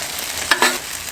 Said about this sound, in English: Just pour it over the top, let it sizzle away